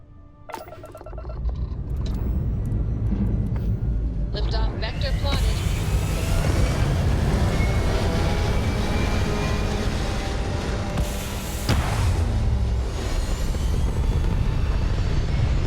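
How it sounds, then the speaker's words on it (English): Spaceship thrusters fire in the video game Starfield. A deep, roaring engine rumble swells in within the first second and then holds loud and steady, with a brief brighter burst near the end. "Thrusters firing."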